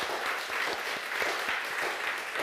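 A church congregation at a Wednesday worship service breaks into dense applause, a continuous wash of many hands clapping at once, steady and fairly close.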